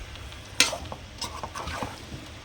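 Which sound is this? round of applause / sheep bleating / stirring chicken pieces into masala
stirring chicken pieces into masala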